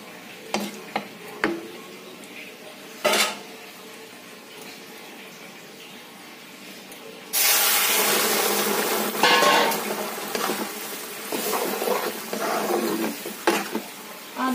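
An ingredient poured into a cooking pot on the stove, a few sharp taps and clinks first, then a sudden loud rush and sizzle as the liquid hits the hot pot, settling into steady bubbling with occasional clatter.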